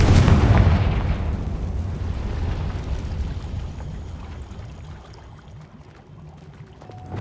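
A Confringo blasting spell detonates in Hogwarts Legacy with a loud, close boom at the outset, followed by a long rolling rumble that slowly dies away into quieter background game sounds.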